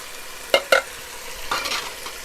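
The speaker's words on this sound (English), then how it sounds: "Now we can just stir this in." A spoon scrapes and clinks against a pot while seasoning is stirred into steak soup, with two sharp knocks followed by softer scraping strokes over a faint simmer.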